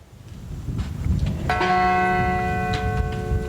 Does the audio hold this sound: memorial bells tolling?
yes